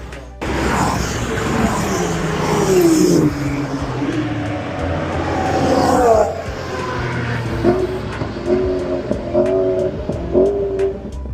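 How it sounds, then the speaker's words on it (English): A BMW Z4 drives hard around the Zandvoort circuit on a track day, its engine rising and falling through revs and gear changes while people talk over it, closing with a run of rapid ticking pops. "What in the BMW Z4 have we got here?"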